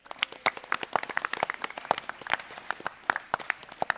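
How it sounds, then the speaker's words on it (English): A small audience at a gun convention Q&A panel claps for a question, sparse distinct hand claps close by at an uneven rhythm, moderately loud. "Round of applause for that question"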